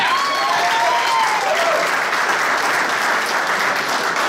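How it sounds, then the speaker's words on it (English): Sustained, dense applause from a crowd at a meet-the-candidates night, cheering the Muttontown police department, with a brief voice rising over the clapping at the start. "Can we have a round of applause for Muttontown PD?"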